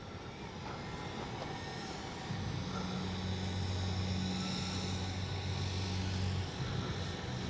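A Hangar 9 J-3 Cub radio-controlled plane flies on a breezy day, and its small engine drones as a steady hum that swells for a few seconds over constant wind noise.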